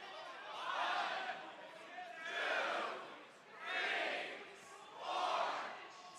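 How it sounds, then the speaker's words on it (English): Crowd at a Pokémon TCG regional championship in Baltimore: four broad swells of cheering and chatter, each rising and fading at steady intervals, moderately distant and filling the hall. "We got some crowd action out there as well"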